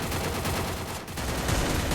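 Dense, continuous gunfire from the Free Fire video game, a rapid rattling burst with barely any pause, loud and close.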